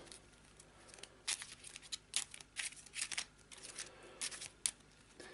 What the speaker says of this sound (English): Again, another quick shuffle.